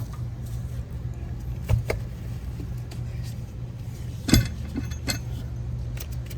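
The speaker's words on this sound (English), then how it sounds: "Lug nuts are off, wheels coming off." Car wheel pulled off a hub after its lug nuts are removed during a wheel stud replacement: quiet metallic clinks and jangles with two sharper knocks, close up, over a low steady hum.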